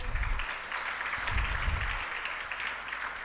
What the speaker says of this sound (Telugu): ఇక్కడ నేనైతే నమ్మితే మీరు ఒకసారి చప్పట్లు కొట్టండి చూద్దాం